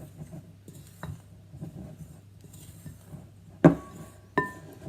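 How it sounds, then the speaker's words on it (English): Flour and sugar stirred into fruit in a bowl, mostly soft, quiet rustling broken by a few sharp spoon clinks against the bowl near the end. "I'm going to very randomly just stir those together"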